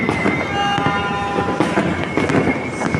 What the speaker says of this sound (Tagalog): Ayun pa, may paputok pa dun, oh.